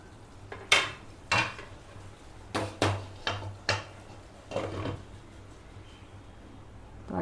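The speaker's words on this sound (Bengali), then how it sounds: "তো উচ্ছেটা দিয়ে একটু আবার ঢাকনাটা দিয়ে দেবো" A lid goes onto a pot of bitter gourd and sweet pumpkin curry with a series of sharp metallic clanks and clatters spaced over several seconds, close by and fairly quiet, with no talking.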